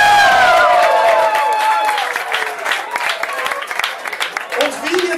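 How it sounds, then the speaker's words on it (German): An audience at a ball applauds and cheers loudly, clapping strongly at first and then fading into a lighter patter, with a voice speaking over the crowd noise. "Ist ein Applaus wert!"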